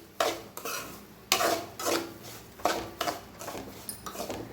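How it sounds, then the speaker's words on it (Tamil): Semolina and nuts dry-roasting in a pan, being stirred: a series of distinct scraping and scooping strokes at an uneven pace, with faint grainy rustle between them and no talking. "இந்த டைமில் நம்ம எடுத்து வச்சுருக்க ரவையை உள்ளார சேர்த்துடலாம். சேர்த்துட்டு நல்லாவே வறுத்து விட்டுக்கலாம்."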